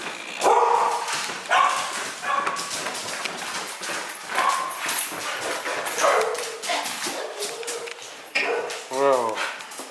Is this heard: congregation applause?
no